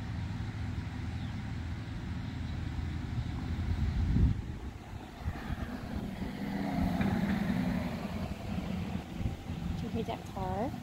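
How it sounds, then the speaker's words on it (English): A car drives past outdoors, its low engine and tyre rumble swelling a little before the middle and again later, set against wind noise, with voices talking at moments over it. "Do you hear that car? Did the car go vroom?"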